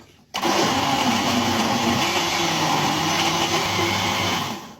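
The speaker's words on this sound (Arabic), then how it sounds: "في الخلاط بتتضرب بسرعه وتبقى طريه وجميله" A blender blending frozen strawberries whirs loudly and steadily for several seconds after a short quiet start, its motor droning with a gritty, churning texture.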